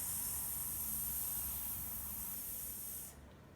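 Long hissing exhale made as the Taoist lung healing sound, a soft, breathy, steady hiss held close for about three seconds before cutting off.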